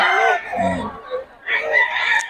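A White Kelso gamefowl rooster crows twice in quick succession, loud and close, the second call rising higher and harsher than the first.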